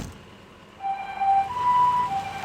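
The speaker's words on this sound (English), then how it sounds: "The old woman was placed in an ambulance and taken to the hospital." A wailing ambulance siren from the video game Persona 3 Portable rises and falls in steady electronic tones, fading in after a quiet start and staying moderately loud to the end.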